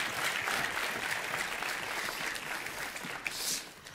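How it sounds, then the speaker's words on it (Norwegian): Applause from a television talent-show audience after a card magic performance, steady dense clapping throughout that thins slightly toward the end. "Vi gir begge to en god applaus."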